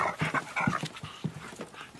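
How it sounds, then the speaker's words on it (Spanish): A dog pants in quick, rhythmic breaths close by, steady and moderately loud with brief whimpery catches, no talking. "El perro que se quede fuera."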